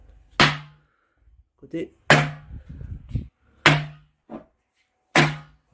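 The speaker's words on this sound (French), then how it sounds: "Quand je tape une cale, je vais taper la cale opposée." Wooden tuning wedges on an atabaque drum are struck with a mallet in crosswise pairs, giving four sharp, loud knocks spaced about a second and a half apart, each with a short low ring, and a voice speaks briefly between the strikes.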